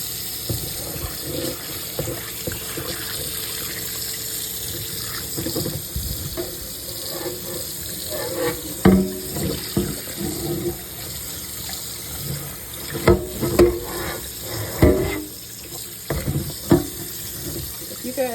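Tap water runs steadily over a cast iron grill pan being rinsed in a sink, with intermittent splashes and clunks of the pan. Occasional voice sounds come in under the water.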